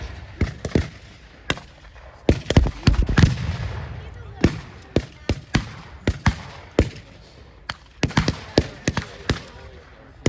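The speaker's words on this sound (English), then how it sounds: "It's almost like a non-stop firing buzz noise" Rapid bursts of gunfire crackle at a WWII battle reenactment, loud sharp reports in quick clusters and short strings with brief pauses, echoing outdoors, no talk over them.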